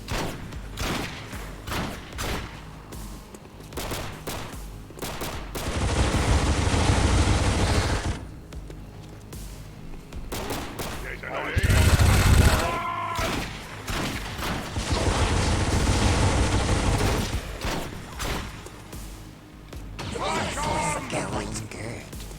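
XCOM 2 weapons let off sustained volleys of rapid gunfire in several long bursts, each a few seconds long, loud and close. Separate sharp shots fall between them, and someone talks throughout.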